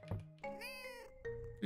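A cat in a video game meows, a couple of short clear meows close up, with no talk over them.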